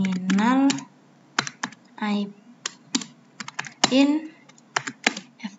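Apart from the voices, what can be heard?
typing a config terminal command on a computer keyboard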